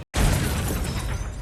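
A sudden burst from an experimental subject exploding in the Iron Man 3 film, loud and broad, swelling instantly after a brief silence and rumbling on with a sustained roar.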